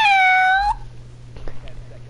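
A person imitates a cat with one loud, drawn-out, high-pitched meow at close range, followed by quiet room noise and faint muffled sounds.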